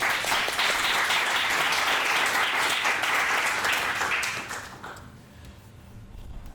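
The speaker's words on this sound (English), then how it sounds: "So please let's give him a round of applause." Audience applause at an annual general meeting honoring a grant recipient, a dense, steady wash of clapping for about four seconds, then fading into quieter room noise.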